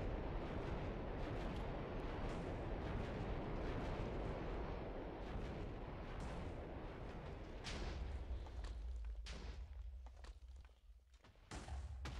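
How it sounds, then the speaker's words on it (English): A missile launcher in the Minecraft Voltz mod fires a continuous barrage, a dense, loud rumbling roar of launches and blasts that persists throughout and thins slightly near the end. "It'll just keep firing until it runs out."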